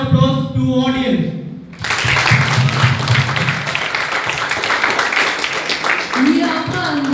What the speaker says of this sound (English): So please give a round of applause to audience.